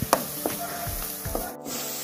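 Onions fry in a pan with a soft sizzle, joined by a few brief stirring scrapes and clinks.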